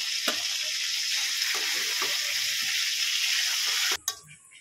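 Pointed gourds fry whole in hot oil, a dense, steady close sizzle with a few soft knocks, before the frying noise cuts off sharply near the end, followed by a clatter.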